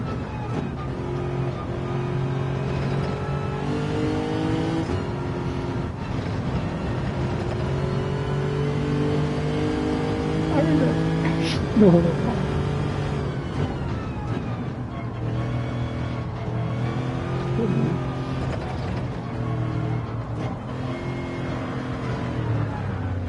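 Race car engines roar in Gran Turismo 7, loud and continuous with revving pitch sweeps and a brief screech midway, a short spoken word slipping in.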